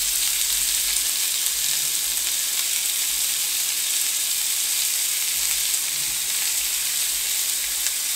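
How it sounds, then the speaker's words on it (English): Carrots, onions and garlic sautéing in a pot give a steady, loud, close sizzle throughout, with no talking. "you want to take the carrot, onions and garlic and all that stuff. We want to put that up in here. We're going to saute this up"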